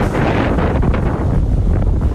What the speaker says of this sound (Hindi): भारी बारिश के साथ तेज हवाएं चलने लगी हैं।